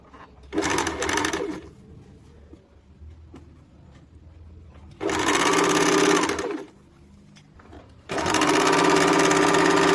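A sewing machine stitches the side seam of a kurti in three loud, close bursts of rapid whirring, each a few seconds long, separated by quiet pauses with faint handling sounds.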